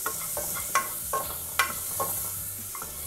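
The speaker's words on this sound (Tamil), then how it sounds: "கொஞ்சம் இந்த தேங்காய் ப்ரௌன் ஆகிற வரைக்கும் இதை வறுத்துக்கலாம்" Coconut pieces roasting in a pan for a village-style chicken salna, with a soft steady sizzle and several sharp scraping stirs of a spatula, close and alone.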